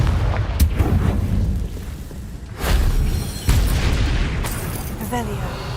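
Confringo explosion spells in the video game Hogwarts Legacy, several sharp booming blasts spaced a second or two apart over a rumbling game background, with a voice speaking between them.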